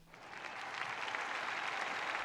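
Twitch Sings ovation effect plays as a soft, sustained wash of crowd applause, steady clapping texture at moderate-low level lasting a couple of seconds with no talking over it.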